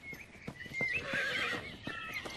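A horse whinnies loudly and shrilly in the middle, while hooves thud in an uneven clip-clop before and after, near and clear with no talking.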